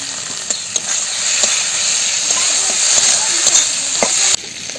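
Fried bitter gourd pieces go into a pan of spiced potatoes, hissing in a steady sizzle while a spoon stirs and scrapes in repeated short knocks.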